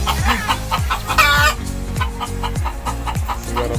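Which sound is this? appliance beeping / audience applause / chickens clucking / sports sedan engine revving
chickens clucking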